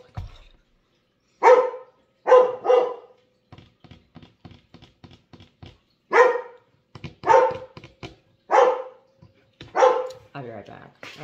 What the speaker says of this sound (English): I want to see what he's barking at.